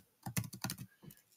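A short, quiet burst of keystrokes on a computer keyboard while writing C# code, about half a dozen quick clicks in two small clusters.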